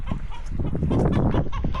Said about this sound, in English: Some lovely little silky chickens.